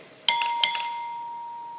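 Two whisky glasses clink together twice in a toast, bright ringing chimes close by, each leaving a long, clear, bell-like tone that slowly fades in a quiet room.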